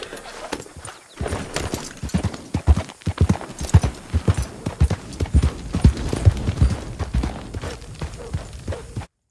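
Rhythmic clip-clop of video game horse hooves galloping steadily at close range, loud and continuous, with a brief pause early on before the hoofbeats resume.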